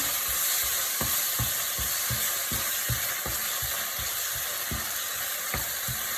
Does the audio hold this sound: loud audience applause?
no